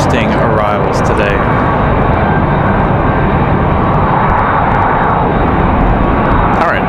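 An airliner arriving from Fort Lauderdale at Raleigh-Durham International on a windy day, its engine roar loud and steady throughout and heavily mixed with gusting wind noise.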